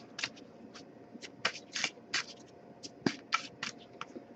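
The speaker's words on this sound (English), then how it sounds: "I'll give it a few more shuffles." Oracle cards are shuffled in quick, soft riffling bursts, close and quiet, with irregular pauses between the flicks.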